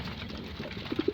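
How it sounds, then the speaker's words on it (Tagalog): Homing pigeons coo in a loft in the early morning: a few soft, low, rounded coos come in quick succession near the end over a faint background murmur. "Yan yung mga ibon natin."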